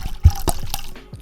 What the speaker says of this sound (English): I'm gonna pour a little wine about it.